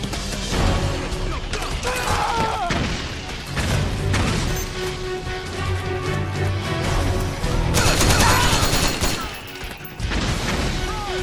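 A firefight in the video game Metal Gear Solid 4 brings repeated bursts of gunfire and crashing impacts throughout, with loud clusters near the middle and the end, mixed with shouting voices.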